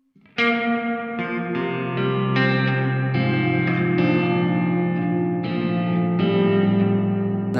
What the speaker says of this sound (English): which is a hall reverb